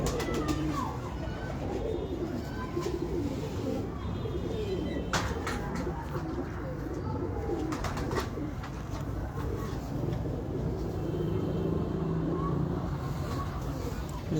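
A man's pigeons coo softly in repeated low calls alongside faint chirps, while someone talks throughout and occasional clicks and thumps break through.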